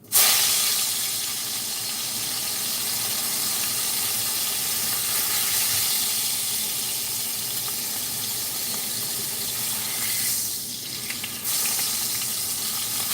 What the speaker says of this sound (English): start cooking fries up